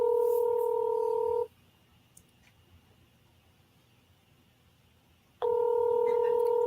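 A telephone call produces two long, loud steady ringback tones separated by several seconds of near silence.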